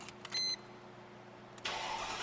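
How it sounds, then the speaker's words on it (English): A 2001 Mercedes-Benz SL500 AMG Sport cranks briefly, then its engine catches and settles into a steady idle, heard fairly faintly with no voices. "I'm going to start it up just so you can hear the car run"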